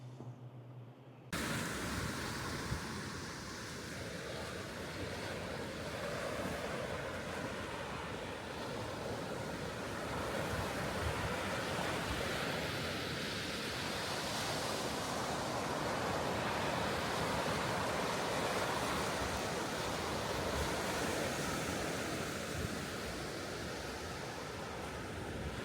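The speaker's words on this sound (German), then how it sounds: "Auf jeden Fall ein schöner Strand hier in Tarifa." Atlantic surf on a beach at Tarifa, a continuous loud roar of breaking waves mixed with wind buffeting the microphone, starting abruptly and continuing steadily without any voices.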